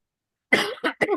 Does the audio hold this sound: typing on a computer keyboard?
no